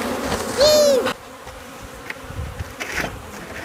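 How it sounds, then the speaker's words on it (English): Honey bees from a newly installed bee package swarm around the queen in a hive, a close, steady buzzing hum with one bee passing loudly near the listener early on, no voices. "We got a bit of bees on top of the queen there."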